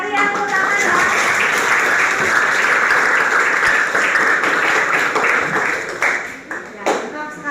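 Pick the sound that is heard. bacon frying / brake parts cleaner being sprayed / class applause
class applause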